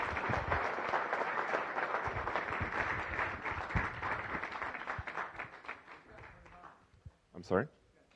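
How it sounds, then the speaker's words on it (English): Audience applause for contestants at a Rotary Club meeting, a round of clapping that fades out with talk over and after it. "Let's give all of our contestants another round of applause."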